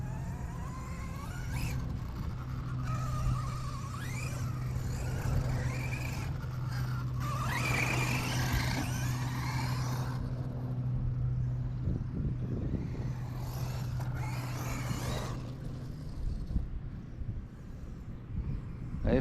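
An Arrma Mojave EXB 6s RC car driving outdoors, its electric motor whining and rising in bursts as it accelerates and slows, heard steadily at moderate distance across about nineteen seconds.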